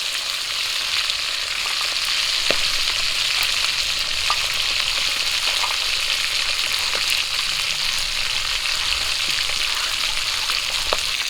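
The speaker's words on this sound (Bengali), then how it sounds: "মাছগুলো ভাজা হয়ে গেছে তুলে নেব" Pieces of a large fish head and body frying in hot oil in a home kitchen, giving a steady, dense sizzle with occasional crackles and pops, close and continuous, with no talk.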